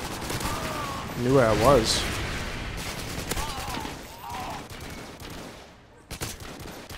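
Gunfire in Call of Duty: Modern Warfare 2 during a firefight around a building, with dense rattling shots and scattered cracks running throughout under a player talking.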